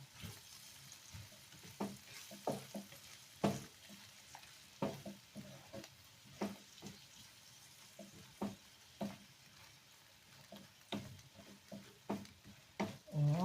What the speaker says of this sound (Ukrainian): Так, там смажиться в мене кірочка разом.